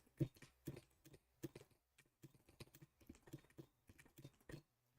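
Rapid, uneven clatter of keystrokes on a sensitive computer keyboard during fast Tetris play, close and fairly quiet, with bursts of sharper key hits and no talking.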